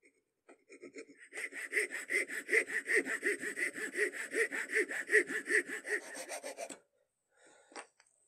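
A hand saw cuts through wood being shaped into a wooden bow tie, with steady rhythmic rasping strokes that build after a few light starts and then stop, close and alone.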